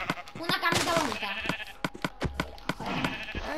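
Minecraft sheep bleat several times in a survival game on PS4, short nasal cries repeating over a steady game background while two players talk over them.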